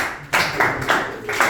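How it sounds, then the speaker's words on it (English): A few sharp, separate hand claps from a classroom, roughly four loud claps at uneven intervals, close by. "Let's clap for them."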